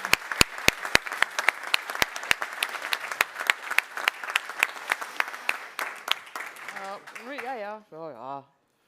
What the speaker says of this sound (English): A big applause for Maya, please.